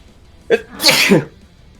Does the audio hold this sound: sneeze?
yes